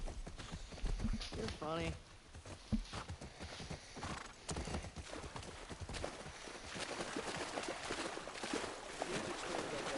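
Horses' hooves clip-clop in The Last of Us Part II, a steady run of hoof beats mixed with game ambience and a brief whinny, while voices talk over the scene.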